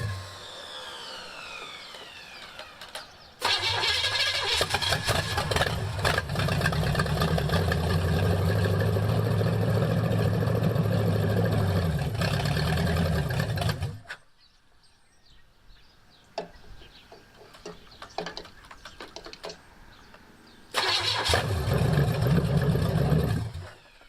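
An abandoned Pontiac 400 V8 running low on fuel, roaring loudly for about ten seconds, dropping to quiet clattering and rattles, then firing up loud again near the end.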